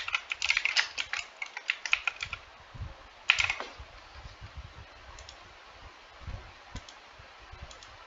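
Crisp clicking keystrokes on a computer keyboard while entering text into an Android app's edit text field, coming in quick bursts with short pauses and a lighter patter later, close up with no speech.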